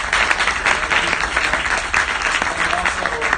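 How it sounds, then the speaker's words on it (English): A room full of people at a student club's general meeting gives a round of applause, close, dense clapping that stays steady and loud from start to finish with no voices. "Can we please give a round of applause to Dr."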